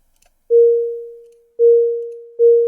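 A simulated MRI machine tone from an interactive simulator sounds as three flat, steady electronic beeps, each starting abruptly and fading, with the last one cut short.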